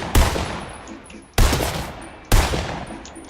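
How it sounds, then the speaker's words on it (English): Three loud, separate gunshots ring out in a video game about a second apart, each a sharp blast with a decaying tail; no voices. "Start firing at this guy."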